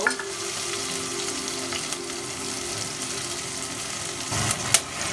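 Cow skin meat fries in a hot pan, a loud continuous sizzle up close, with a few scraping stirs and a sharp clack near the end; nobody speaks.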